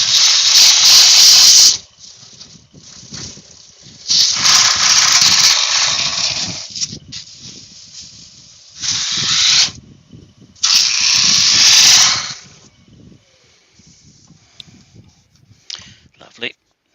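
Fine 400-grit abrasive sanding a large beech platter, heard as loud rasping bursts that start and stop several times, with quieter stretches between them.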